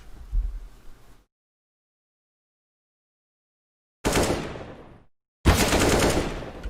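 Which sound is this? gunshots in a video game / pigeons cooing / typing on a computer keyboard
gunshots in a video game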